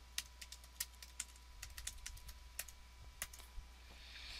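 Rapid, light keystrokes on a computer keyboard as a folder name is typed, an irregular run of close, quiet clicks with no talking.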